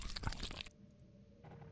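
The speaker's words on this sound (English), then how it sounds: "Well, I'm still eating my burger." Close, loud crunchy chewing of a burger, a burst of wet bites and mastication that stops abruptly, leaving near silence with a faint hum.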